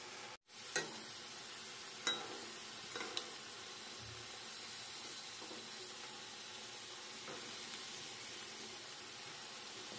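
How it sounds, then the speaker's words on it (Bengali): Thick potato pieces fry in a pan with a steady low sizzle and a few stirring clatters near the start, no voices. "ভাজা তো হচ্ছে।"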